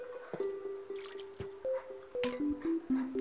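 Plants being watered in the video game Plants vs Zombies: a cartoonish run of dripping, squishy water plops with bright rising tonal blips, several in quick succession, clear and close.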